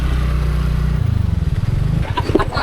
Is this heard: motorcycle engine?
yes